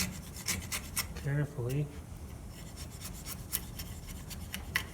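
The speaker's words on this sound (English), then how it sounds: "So chiseling this" A wood chisel pares fibers from a cross lap joint with a series of short scraping, rasping strokes, close and quiet, while a voice speaks briefly in the middle.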